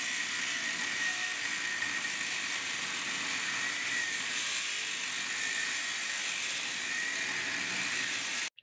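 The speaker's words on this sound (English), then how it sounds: "We used a 7-inch angle grinder with a cutting disc to cut out this panel." A 7-inch angle grinder with a cutting disc cuts a panel out of a shipping container wall, making a continuous loud high-pitched whine and grinding hiss that holds steady until it stops abruptly.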